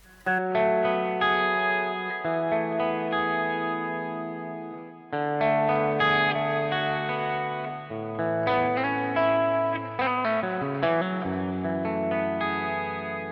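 Electric guitar through a Line 6 model of a Trainwreck Express amp, with light overdrive and a touch of modulation and echo, plays sustained chords and riffs, warm and slightly gritty, heard alone.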